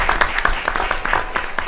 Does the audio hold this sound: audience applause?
yes